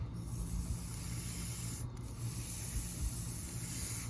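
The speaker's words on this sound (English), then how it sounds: "Then I take just a handful of the shavings that we just cut off. Turn the lathe back on." Steady soft rubbing hiss as a handful of wood shavings polishes a duck call barrel spinning on a lathe, a constant close drone with a faint motor hum underneath and no talk.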